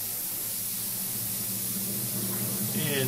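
An airbrush sprays khaki paint onto a KONG model surface, producing a steady, continuous close hiss of air and paint that holds unbroken throughout and swells slightly near the end.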